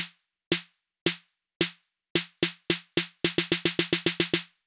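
Electronic build section programmed in LMMS: sharp synthetic percussive hits with a low tonal body, starting sparse and evenly spaced, then doubling and quickening into a rapid accelerating run, clean and alone.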